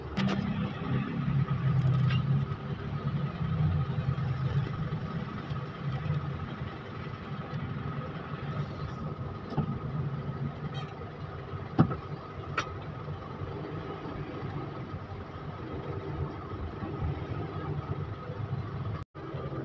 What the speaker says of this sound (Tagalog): nagkakaroon na ng pagkabulbul na traffic sa lugar na ito